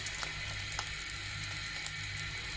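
Pieces of fish crackle and sizzle steadily in hot oil, fried until reddened, a dense continuous hiss with small pops and a low hum underneath, close and unbroken throughout.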